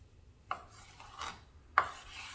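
Two short rasping knife strokes through a sous vide picanha steak on a cutting board, each a quick scrape, close and fairly quiet, with no talk.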